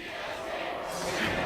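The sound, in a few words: live esports crowd cheering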